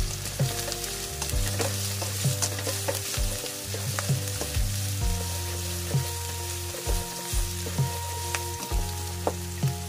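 Garlic sautéing in a pan for spicy squid adobo, a close, continuous sizzle broken by repeated stirring scrapes and utensil knocks against the pan.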